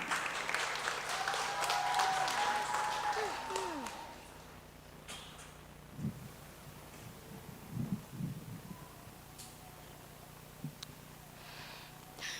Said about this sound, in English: So a round of applause again for Naraya